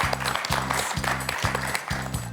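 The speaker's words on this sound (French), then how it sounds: "On peut l'applaudir, Pascal." A short burst of studio audience applause on a TV quiz show, steady clapping that rises and falls, with a repeating low thump underneath.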